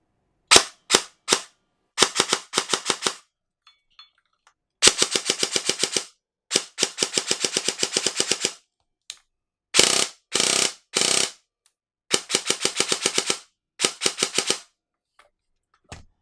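Sharp mechanical bursts of rapid clicking shots from a G&G electric airsoft gun with a precocking mosfet, fired in short strings and single taps with silent gaps, crisp and close.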